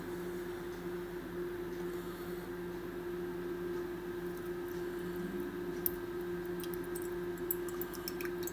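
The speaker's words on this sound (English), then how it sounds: "that only took about 10 seconds in the microwave, which you can still hear going" Low steady hum of a running microwave oven heating a calendula flower mixture, with a constant drone and faint ticking, quiet and unbroken, no voices.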